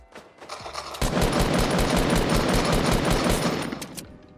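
Rapid automatic gunfire from a Fortnite weapon tearing through trees, a sustained loud burst of dense shots lasting about three seconds after a couple of lead-in pops.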